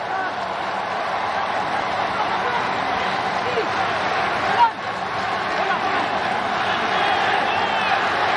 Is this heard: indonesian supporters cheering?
yes